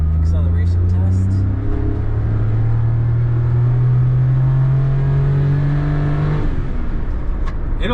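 A Suzuki Alto Works HA22S accelerates hard from inside the cabin, its engine note climbing steadily under load before a brief drop near the end, loud and close, with people talking over it.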